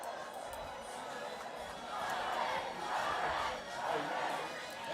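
High school football crowd in a stadium roaring and cheering at Terry Parker versus Atlantic Coast, a broad, distant swell of voices that rises midway and stays loud.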